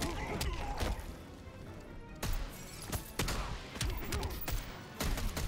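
Low gunshots fired in the fighting game Injustice 2 during a tournament match, a series of sharp cracking impacts spaced through the clip amid busy game sound and crowd noise.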